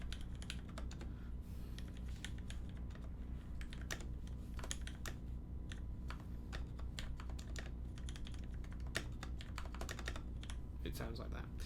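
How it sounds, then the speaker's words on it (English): Soft, steady clicking of gentle typing on a custom mechanical keyboard with copper or brass switches, a quick continuous patter of light keystrokes over a low background hum, close and fairly quiet. "If I was typing really gently."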